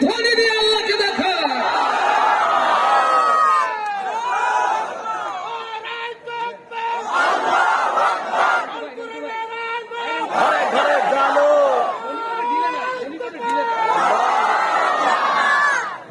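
A large crowd chanting takbir in unison at a gathering, repeated swelling waves of loud massed voices shouting together, rising and falling in a steady call-and-response rhythm.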